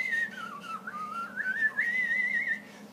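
A wavering, breathy whistle made by blowing into cupped hands glides up and down in a continuous melodic line, close and moderately loud with no talking.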